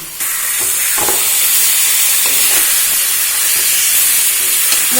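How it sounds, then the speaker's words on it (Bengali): Potatoes and aar fish heads are stirred into a hot spice paste in a pan for a spicy Bengali fish curry. Loud, continuous sizzling hiss with occasional scraping stir knocks, close and without talk. "আলু আর মাছের মাথাটা মশলার সাথে ভালো করে মিশিয়ে নেওয়া হচ্ছে"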